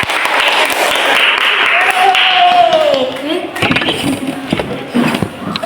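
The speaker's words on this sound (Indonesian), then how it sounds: "tepuk tangan buat kita semua" A small counseling group bursts into applause for themselves, a lively wash of clapping that fades out midway as voices and chatter take over.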